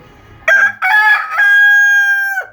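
A rooster kept with broody hens crows once, loud and close: a full cock-a-doodle-doo with a long, sustained final note.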